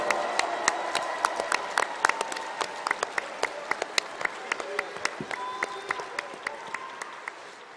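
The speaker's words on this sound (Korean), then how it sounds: "이 두 분을 위해서 힘찬 박수 보내주십시오." An audience at a political party convention applauds warmly, with dense, close clapping that stays steady and then slowly thins out.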